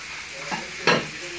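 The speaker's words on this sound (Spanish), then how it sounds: "Ya que ya lo tenemos friendo" Pollito de mar (a small fish) frying in a hot pan of oil, giving a steady sizzle with two brief louder crackling bursts, close and alone with no talk.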